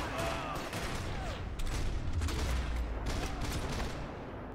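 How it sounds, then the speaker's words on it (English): Rapid gunfire from a semi-automatic rifle during a firefight in Max Payne 3, a dense stretch of close, loud shots with scattered explosive bursts over a steady background. "This rifle is semi-automatic."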